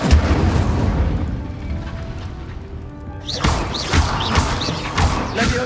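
Incendio fire spell cast in Hogwarts Legacy, a loud rushing whoosh of flames with burst-like impacts and rising whistling tones repeating several times over a dense game soundscape.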